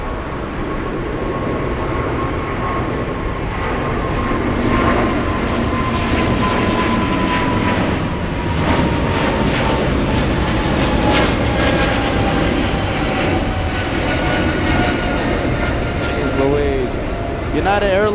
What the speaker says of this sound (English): We have United Airlines taking off, flying to San Francisco.